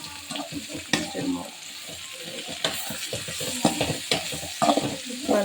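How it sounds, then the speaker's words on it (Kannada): Food frying with salt in a pan, a steady sizzle under repeated scraping stir strokes at close range, the clatter of the utensil recurring irregularly throughout. "ರುಚಿಗೆ ತಕ್ಕಷ್ಟು ಉಪ್ಪಲ್ಲಿ ಈಗ ಸ್ವಲ್ಪ ಫ್ರೈ ಆಗಬೇಕು"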